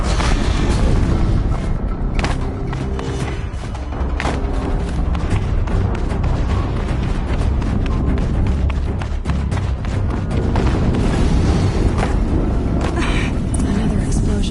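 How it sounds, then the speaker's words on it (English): Explosions in an open-world video game, with dense rumbling booms and thuds that run continuously and loudly, mixed with other game sounds and voices throughout. "Another explosion."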